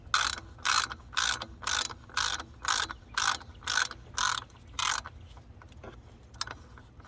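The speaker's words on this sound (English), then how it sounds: "my right hand is basically ratcheting it off" Ratchet wrench with an 11mm socket loosening a nut on a 6.7 Cummins engine during an EGR delete: about ten rapid clicking bursts in steady rhythm, close and loud, then a few faint ticks, with no speech.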